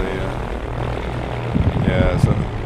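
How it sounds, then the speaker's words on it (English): AI propeller aircraft taking off in X-Plane 11 at a Norwegian airport, a constant droning engine hum that grows rougher and louder toward the end, with a faint whoosh near the close. "there's a couple of planes taking off. That's why it's a bit noisy."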